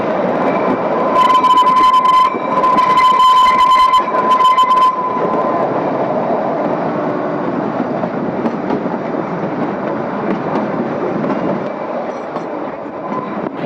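Kalka–Shimla toy train climbing uphill through hills, steady rumbling rail noise and wheel clatter throughout, with a sustained squealing tone near the start that fades after a few seconds, loud and close.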